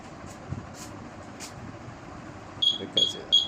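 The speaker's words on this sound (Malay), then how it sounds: "Dia buzzer double macam biasa lah" Three short, bright electronic beeps near the end, coming in quick succession after a stretch of low background rumble.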